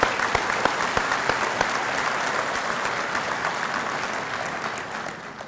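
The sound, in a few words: banquet audience applause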